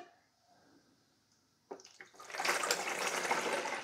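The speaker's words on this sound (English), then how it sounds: "I'm going to add my water." Water poured into the reservoir of a Black+Decker 12-cup Mill and Brew coffee maker: after a quiet start and a couple of soft knocks, a steady, close splashing stream runs to the end.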